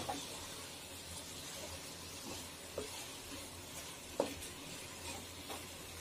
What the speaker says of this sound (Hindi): धनिया पाउडर भी डाल देंगे इसी के साथ में। थोड़ी देर फ्राई करेंगे।